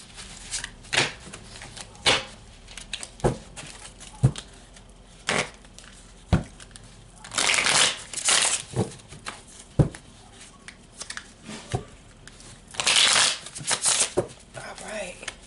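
Tarot cards being shuffled in repeated riffling bursts, close and fairly loud, with quiet pauses between them and a voice speaking at times.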